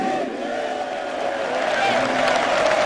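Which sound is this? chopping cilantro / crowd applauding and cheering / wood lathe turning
crowd applauding and cheering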